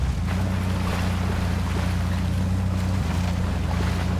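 A heavy off-road truck in Spintires MudRunner wades through deep water, its engine droning low and steady with continuous splashing and churning water throughout.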